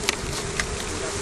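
Honeybees buzz continuously close by near a hive, a dense steady drone with a couple of brief louder passes as individual bees fly past.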